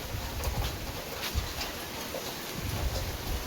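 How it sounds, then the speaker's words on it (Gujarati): Rain falling at night with wind, a steady dense hiss of drops on surfaces with faint gusty rumbling, continuous and moderately quiet throughout. "વરસાદ જો અત્યારે ચાલુ થઈ ગયો છે"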